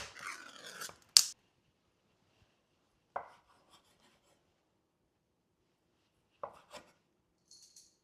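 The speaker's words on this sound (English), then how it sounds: "Let's cut some spam." A knife cuts through spam for Korean budae jjigae: a few sharp, isolated cutting strokes, louder at the start and then sparse single cuts separated by near silence.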